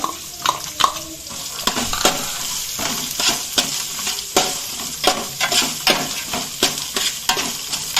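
Chopped onions frying in a pan for a Tulu-style kanchala palya, a steady close sizzle broken by repeated spoon stirs and scrapes in a loose, regular rhythm.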